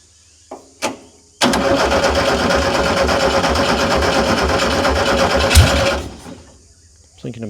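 An old VW fire truck engine with only 86 hours of running time, unused for over twenty years, cranks on the starter with fast rhythmic churning for several seconds after a couple of short bumps, then stops.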